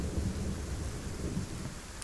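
Heavy downpour in the video game Undawn: a loud, continuous hiss of rain over a deep, rolling thunder-like rumble, steady throughout with no talking.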